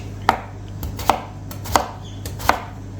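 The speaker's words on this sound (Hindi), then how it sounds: "तब तक मैं आलू काट लूँगा" A kitchen knife dices potatoes for a potato egg curry, producing four evenly spaced, crisp chops against a cutting board over a low steady hum.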